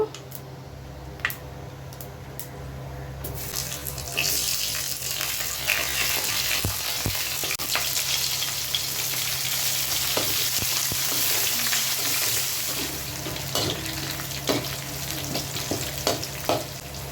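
Onion and green chili hit hot oil in a pan for a cauliflower and potato fry, bursting into a loud, steady sizzle after a quieter start, with occasional clicks and scrapes of stirring.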